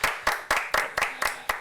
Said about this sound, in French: Même moi, j'applaudis.